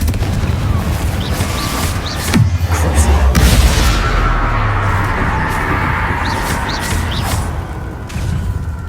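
Confringo blasting curses detonate in Hogwarts Legacy combat, heavy booming explosions over a constant rumbling battle bed, a big blast in the middle and smaller bangs around it, loud and close.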